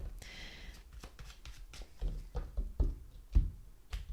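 Tarot cards shuffled in quick riffling bursts, close and fairly soft, with crisp papery flutters and a few heavier taps and knocks as the deck is squared.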